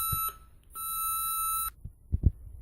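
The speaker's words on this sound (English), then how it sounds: "we hear the gauge alarm" Elcometer 266 holiday detector gauge alarm sounding: a couple of short electronic beeps followed by one sustained, piercing tone, near and clear, then a few dull knocks.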